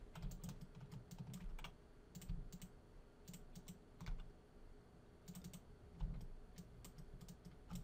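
Keys clatter on a computer keyboard during 3D modelling work in Maya, with irregular bursts of clicks and short presses spread across the clip, fairly close with no voice.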